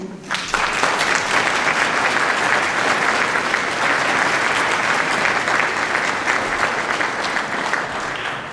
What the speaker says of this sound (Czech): takže jí prosím zatleskejte